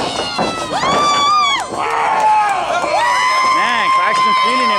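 Crowd at a basketball matchup cheering and shouting, many excited voices with rising, wavering hoots and yells layered over one another, loud and close with speech mixed in.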